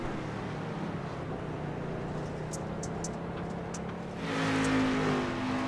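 A street stock race car engine drones at a distance on a Sonoma rally course, then swells louder and closer near the end as the car approaches.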